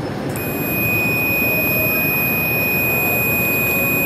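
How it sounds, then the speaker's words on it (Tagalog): A steady high-pitched multimeter continuity beep starts and holds continuously over a dense hiss of background noise. "kung marinig nyo yung beep sounds nya nung ating multimeter"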